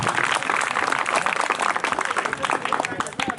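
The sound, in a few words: applause for quiz participants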